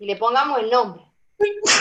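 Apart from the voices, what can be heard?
sneeze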